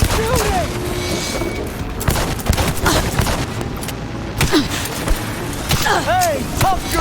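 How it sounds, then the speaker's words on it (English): Gunfire and explosive booms in the video game Cyberpunk 2077, with scattered shots and bursts amid a dense combat mix while voices shout over the action. "He's shooting!"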